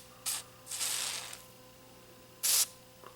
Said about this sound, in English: So we'll just give a little shot of Neutral cleaner